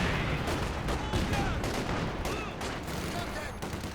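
Katyusha rocket artillery firing in Company of Heroes 2, a dense, loud barrage of overlapping blasts and whooshing launches across a busy battlefield, continuous and rumbling throughout.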